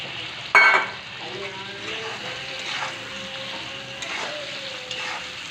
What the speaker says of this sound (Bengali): ভাজা পটলগুলো দিয়ে একটু ভালো করে কষিয়ে নিতে হবে।